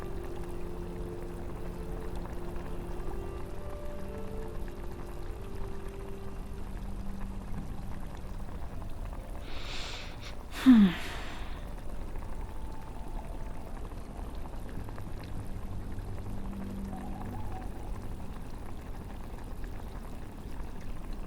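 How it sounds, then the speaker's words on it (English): Liquid simmering in a pot gives a steady, soft bubbling hiss throughout, broken once midway by a brief sharper splash or clink, with no talking. "Let it simmer for 10 minutes."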